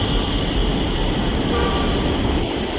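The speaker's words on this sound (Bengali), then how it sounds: "এই দেখুন মেট্রোটা আসছে, ইন্ডিয়ান তৈরি মেট্রো কিন্তু একদম।" An Indian-made metro train pulling into a terminal station in Agra, a steady rumbling roar with a bright mechanical whine throughout, fairly close and without any talk.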